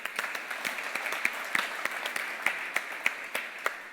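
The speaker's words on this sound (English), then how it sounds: "A round of applause, please, for Monsieur Gautier Laurent." Sparse applause from a conference audience at a fund management event, a few dozen distinct claps at a moderate distance that stay fairly quiet and steady.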